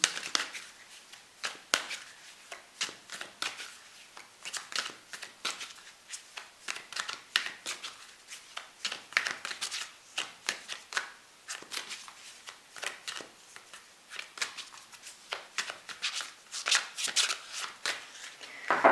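Tarot cards shuffled by hand in a steady run of crisp riffling bursts across the whole stretch, close and fairly loud, with no talk.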